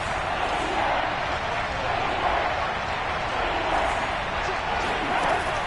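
Seahawks home crowd at a football game in the red zone on third down, a constant loud wash of stadium noise from a large crowd with slight swells, no distinct individual voices.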